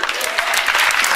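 Audience applause fills a church sermon hall, a dense steady patter of clapping that holds at an even, fairly loud level throughout.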